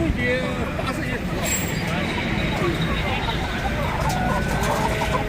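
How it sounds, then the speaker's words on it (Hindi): Chinese roosters cluck and call at a poultry farm amid a busy, noisy background of babble and distant road traffic, with people talking throughout. "ये देखिए जी, ये चाइनीज मुर्गे हैं"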